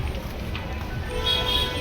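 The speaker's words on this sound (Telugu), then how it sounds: "మా హారన్లు కొట్టుకొని పోయేలా ఉన్నారు అందరు" Vehicle horns toot in busy traffic outside a crowded temple entrance, a brief honk rising toward the end over a constant roadway rumble and murmur.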